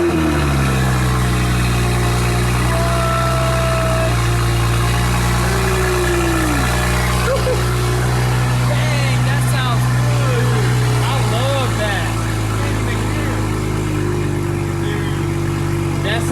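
A car engine with a new exhaust idles with a deep, steady rumble close by, while people talk over it throughout.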